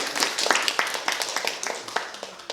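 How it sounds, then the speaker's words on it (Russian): An audience at a young scientists' science slam claps in sharp, uneven bursts that thin out over a couple of seconds, close and moderately loud. "Аплодисменты."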